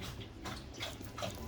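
A puppy whimpers in a few soft, brief cries spread across a quiet indoor moment, with faint high-pitched yips rising over low background hum.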